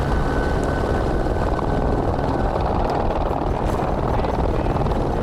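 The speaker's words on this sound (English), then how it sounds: "the only way of getting water to them is by helicopter" A loud, steady helicopter roar fills the scene, a dense continuous rotor and engine drone with no letup.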